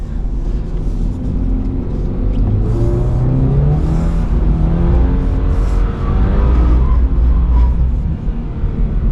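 Loud, continuous engine drone and revving from a 2022 Subaru BRZ out on a drift lap, with the pitch rising and falling through the run and a steady rumble close to the car throughout.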